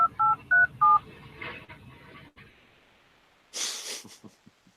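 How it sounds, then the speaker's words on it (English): Four short, clear telephone keypad tones beep in quick succession, followed by faint breathing and a brief burst of noise near the end. "You just dialed 911."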